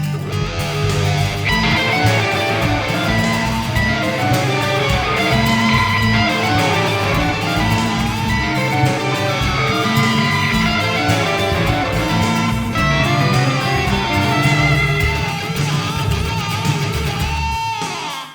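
Layered electric guitar parts from a solo on a rock track, several guitar lines woven together into a dense, continuous recorded mix that plays loud throughout, with no talking over it.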